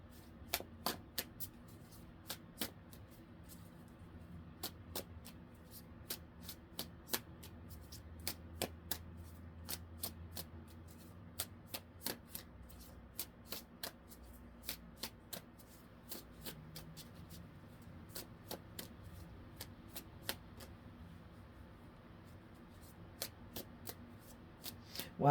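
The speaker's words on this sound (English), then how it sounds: "these shuffle so neat and clean" A deck of Cat Tarot cards being shuffled repeatedly, with crisp riffling snaps and soft slides repeating in steady bursts, close and fairly quiet throughout, with no talking.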